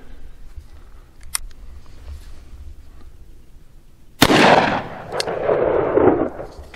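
A Rossi Brawler single-shot firearm fires a .410 shell once during target shooting, a sudden loud blast near the end followed by a lingering rumble, with faint clicks earlier and no talk.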